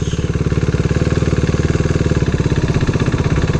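A motorcycle engine runs loud and close with a steady, even pulsing beat while the clutch is eased out into second gear, and the tone stays fairly constant throughout.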